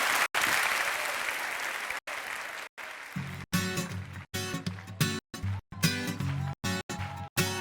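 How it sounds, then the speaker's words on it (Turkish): Studio audience applause on the Turkish TV talk show Beyaz Show rings out for a few seconds before giving way to chopped, sharply cut segments where a melodic musical tone rises under the clapping. "Alkışlar Ahmet Eneski."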